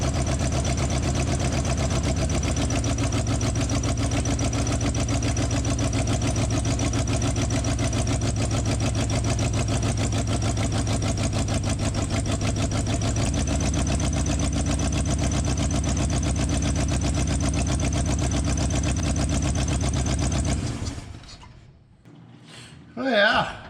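A 1970 Ford F250 engine rumbles steadily at close range for about twenty seconds with a rough idle and an exhaust leak, then cuts off abruptly.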